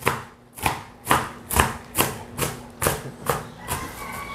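A knife chops cabbage on a cutting board in nine evenly spaced, crisp strikes, about two per second, close up and steady with no voices.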